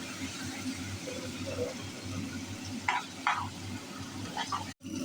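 Boiled beans, cooked with salt, turmeric, onion and green chili, being tempered in a pan: a low steady frying hiss with a few short spatula scrapes and clinks near the end.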